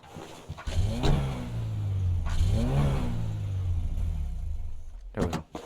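A car engine idles and revs in a taxi-driving video game, a steady mid-range rumble that swells twice into louder revs, then cuts off abruptly near the end, with a short burst of noise afterward.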